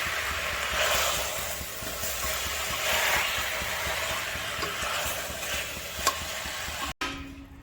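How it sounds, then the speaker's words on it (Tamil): Ingredients for a country chicken curry sautéing in a pan, a steady soft sizzle with faint stirring scrapes, one sharper clack near the end before a brief cut. "இதை போட்டு நல்லா வதக்கணும்."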